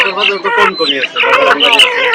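Hens cluck and squawk in a busy, overlapping chorus close by, with people talking over and between the calls.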